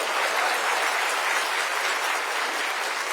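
An audience claps at a public stage event on Bakri Eid: dense, steady applause sustained at even strength for the whole stretch, with no voices breaking through.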